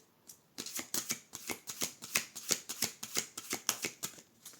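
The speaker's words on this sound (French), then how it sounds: "on fait une coupe avec Love du coup" A deck of cards is cut and riffled, giving a rapid run of crisp, close flutters and snaps that repeat at a fast, even pace for several seconds.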